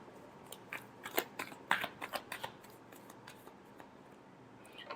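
A deck of tarot cards is shuffled by hand in a final shuffle before a reading, giving soft, fairly close bursts of papery riffling and snapping clicks that come in irregular clusters and then fade out.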